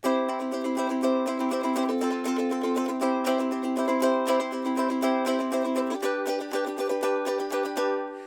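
A ukulele strummed in a steady rhythm, chords shifting partway through, played up close with no voices.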